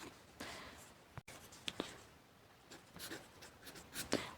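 A pen writes math working on paper with soft scratching strokes and a few sharper taps, faint and close, with no voice over it.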